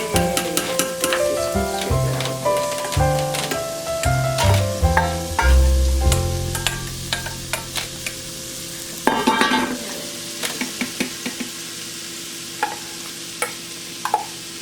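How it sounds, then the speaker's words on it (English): Chopped onion and bell pepper sizzle in hot oil with a steady frying crackle, while a utensil clanks and scrapes against the pan in irregular knocks. "Ooh, sizzling."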